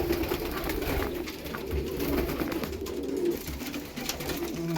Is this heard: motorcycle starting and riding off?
no